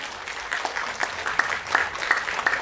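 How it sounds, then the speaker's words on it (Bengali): An audience at a Language Day cultural programme on a Rabindra Sadan stage applauds the organisers, with steady rhythmic clapping of many hands that swells and pulses, moderately loud and without talk. "ওদের জন্য জোরে হাততালি দেবেন একটু"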